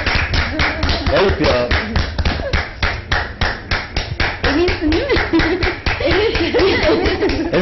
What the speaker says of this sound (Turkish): Herkes alkışladı.